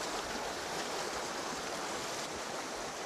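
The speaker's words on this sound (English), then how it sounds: "they run down through these rapids" River rapids rush steadily below a fishing pool, a dense, continuous roar of churning whitewater close by with no break or voices.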